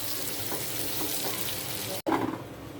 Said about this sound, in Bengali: বেশ কিছুক্ষণ ধরে ভালোভাবে কষিয়ে নেব।